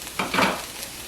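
Onions cook in a pan with a soft, close sizzle. The short moment includes a brief swell of stirring.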